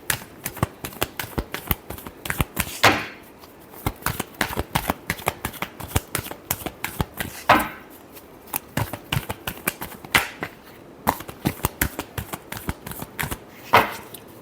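Tarot cards are shuffled repeatedly, crisp riffling bursts and soft slaps recurring close and clear, with no talk.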